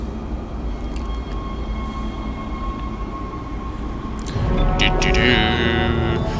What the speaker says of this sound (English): Back to the tram!